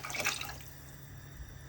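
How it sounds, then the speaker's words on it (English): Chicken and goat stock poured into a cooking pot for Nigerian bitter leaf soup, a brief faint liquid splash and trickle that fades quickly. "So these are the stock that we pour in here."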